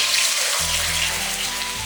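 A crucian carp fries in hot oil in a wok, giving a close, continuous hissing sizzle over a low steady hum for the whole stretch, with no talk.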